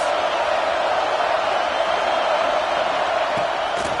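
A football stadium crowd roars continuously against the opposing offense, a dense, steady wall of distant cheering and noise with no break across the few seconds.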